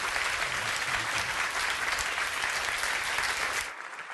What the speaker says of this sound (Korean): 이 시간 나오실 때 여러분 기립하셔서 뜨거운 박수로 맞아주시기 바랍니다.